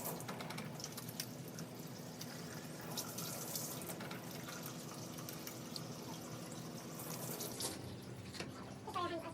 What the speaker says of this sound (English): At this step then you'll wash your hands